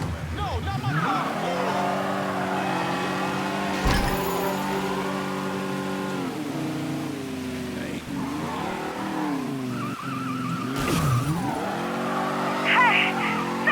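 A stolen car in the Mafia III video game tears away with loud, sustained tire squeal and rising engine revs, close and continuous over several seconds, while someone shouts briefly.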